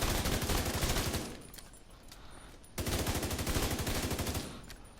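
Automatic weapon fire at a shooting range in The Division 2: two long, rapid, steady bursts separated by a short pause, loud and close.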